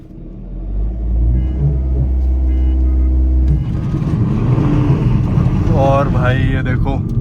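Skoda Octavia 1.8 TSI petrol and BMW X1 2.0 diesel launching in a drag race: a loud low engine rumble builds, then surges into hard acceleration with rising revs and wind buffeting, close to the microphone.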